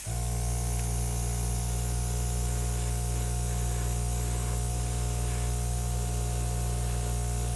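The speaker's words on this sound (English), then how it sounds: "Alright, so I'm going to touch it up with my airbrush" An airbrush sprays paint over a Dutch pour acrylic artwork, a steady close hiss running without pause over a constant compressor hum.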